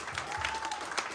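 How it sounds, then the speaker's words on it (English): A crowd at the semi-final results of a talent search claps in a dense, steady round of applause, heard briefly at moderate volume. "round of applause for guys"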